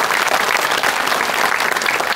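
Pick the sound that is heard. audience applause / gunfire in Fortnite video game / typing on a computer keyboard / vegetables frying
audience applause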